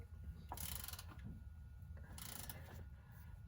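A ratchet snugs a bolt during fluid service on a fourth-generation Cummins engine, giving two short bursts of quiet rapid clicking separated by a pause.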